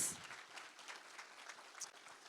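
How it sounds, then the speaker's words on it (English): Faint, scattered applause from an audience at a justice breakfast event, light clapping that stays soft and thin throughout the short stretch. "Huge round of applause for Andrea"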